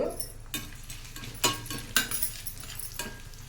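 Cumin, chana dal and urad dal tempering in hot oil for a Telugu amaranth-leaf fry, a soft continuous sizzle with a few sharper crackles and faint utensil clinks, close and fairly quiet.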